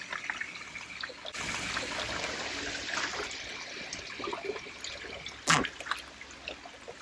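Water is poured into a fish breeding tank at an exotic fish farm, a steady trickling splash that starts after a second and runs on continuously, with one brief louder splash near the end.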